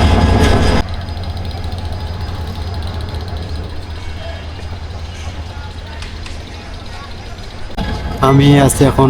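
A train idles at Hatibandha station in Bangladesh with a steady low rumble and hiss, busy station noise around it, with voices talking briefly at the start and end.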